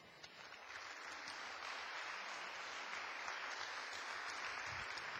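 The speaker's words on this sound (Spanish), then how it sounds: "Dios, así que Él merece el aplauso." Church congregation applauding during a Sunday service, a continuous, fairly quiet wash of clapping heard from some distance, with no talk over it.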